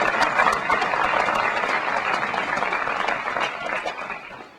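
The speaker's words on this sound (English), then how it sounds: "So if you can give them all a round of applause," Applause from the audience at the Peninsula State Park centennial dedication, a dense wash of many hands clapping steadily and loudly for nearly five seconds before easing slightly at the end.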